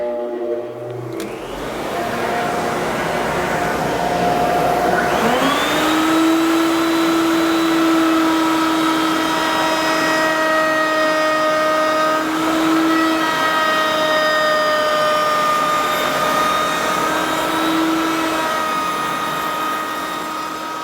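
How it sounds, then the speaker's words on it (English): A router spinning a large round-over bit in a router table, used to round off wood edges; the motor spins up after a short pause and then runs at a loud, steady whine for the rest of the clip, with no voices. "I've got a fairly good sized round over bit in the router table, and I'm just going to round the edges off on this"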